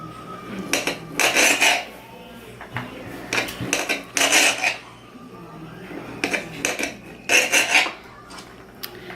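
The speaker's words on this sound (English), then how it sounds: "I cut it in like slices like this." A knife slices through peeled salchichon sausage on a cutting board, with several grouped, scraping cuts and soft knocks against the board, repeated in short bursts with pauses between.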